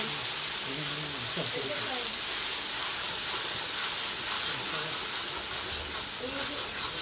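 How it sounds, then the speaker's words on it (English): Soya chunks simmer in curry over an open fire, giving a steady broadband sizzle and hiss throughout, with faint voices and a brief murmur from a person under the frying noise. "That's the sizzling of chunky in curry on fire side."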